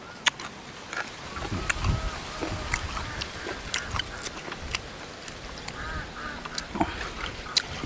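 Ducks quack repeatedly in short, irregular bursts nearby, over a background of wind and faint rustling.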